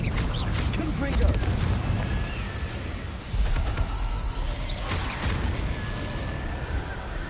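In Hogwarts Legacy, a Confringo blasting spell sets off fiery explosions: a few heavy booming bursts spaced a couple of seconds apart over a rumbling combat background.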